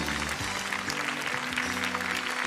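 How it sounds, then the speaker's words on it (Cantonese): Audience applause at the Miss Hong Kong pageant: a steady, dense clapping from a large crowd filling the hall, with faint voices underneath. "大家都俾啲掌聲鼓勵下佢"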